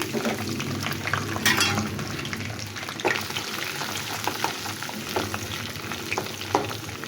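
A large garlic clove frying in hot oil with panch phoron for a sweet-and-sour chili pickle: a dense, steady sizzle close by, broken by occasional scraping stirs of a spoon against the pan.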